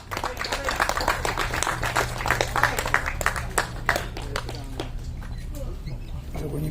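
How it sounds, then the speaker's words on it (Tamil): An audience at a film press meet claps in a lively round of applause, dense rapid claps filling the room before thinning out, with a voice speaking over them. "So can I have a great round of applause?"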